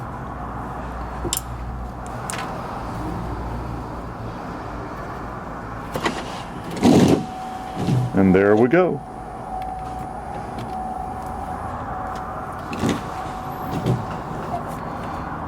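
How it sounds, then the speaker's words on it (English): Electrical snapping and popping from a 2008 Chevrolet Silverado with a no-crank condition as a battery cable is wiggled: a short cluster of crackling pops in the middle, with a few isolated clicks before and after, under a steady background hum and some talk. "You heard a bunch of snapping and popping"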